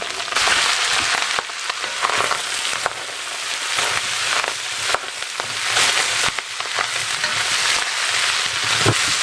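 Chopped vegetables, green beans among them, are tossed into a pan with softened onion and fry loudly in oil, a dense close sizzle with frequent scraping and stirring clatter throughout.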